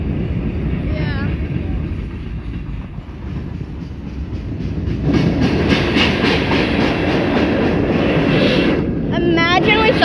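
Freight train manifest cars rolling past near Folkston, Georgia, a close, continuous rumble with rhythmic clicking over the rail joints growing louder midway, wind buffeting the microphone and people talking over it.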